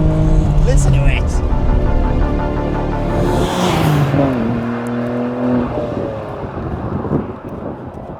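A Nissan Skyline GT-R with its RB26 engine revs up and down, the engine note rising and falling under wind buffeting, with a voice briefly audible at the start.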